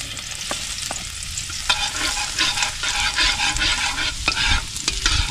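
Garlic sizzling in a hot pan, a dense steady frying hiss with occasional stirring scrapes and taps, close and fairly loud, with no talking.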